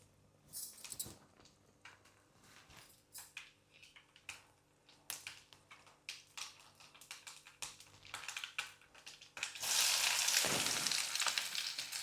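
Onion and curry leaves hit hot sesame oil after a run of clicking, tapping stirs, then burst into a loud, bright, continuous sizzle close up, with no voices.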